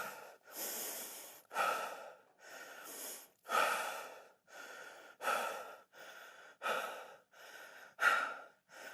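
Heavy, rhythmic breathing during a cardio HIIT workout at home: roughly a dozen loud, close inhales and exhales come in an even, laboured cycle and stand alone, with no talk over them.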